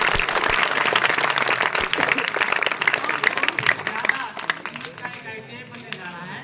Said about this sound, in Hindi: अब आप ताली बजाइए।